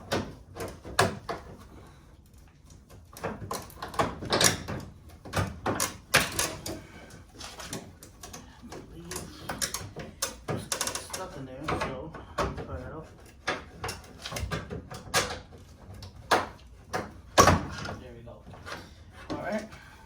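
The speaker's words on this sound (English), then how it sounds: "There's a little lens in there that we're going to have to pull out, so we're going to have to pry it out a little bit." Plastic headlight lens being pried out of a 1998-2000 Toyota Corolla headlight assembly: a close, irregular run of sharp clicks, snaps and knocks, some in quick bursts and some spaced apart, with brief pauses between.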